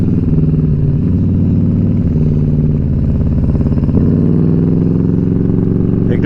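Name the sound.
motorcycle riding on the road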